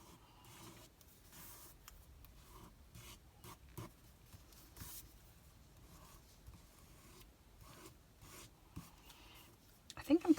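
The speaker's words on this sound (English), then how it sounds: "I think I'm colouring the paper more than I'm colouring the twine." A marker or pen rubs and scratches steadily while colouring twine laid on paper for a 3D papercraft project. The strokes are quiet and close, with a few louder knocks and rustles near the end.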